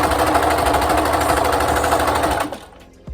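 A sewing machine stitches a hem on chiffon in a fast, even, loud mechanical whir close by, running steadily then stopping abruptly near the end with a brief quiet clunk.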